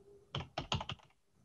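Quick typing on a computer keyboard: about five crisp keystrokes in a short burst, close and fairly quiet, with no voices.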